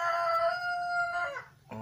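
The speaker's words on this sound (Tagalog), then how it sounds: "Sakto jud ang manok." A rooster crows once in a long, clear harmonic call that rises and then trails off, close and loud, and a short second cry begins at the very end.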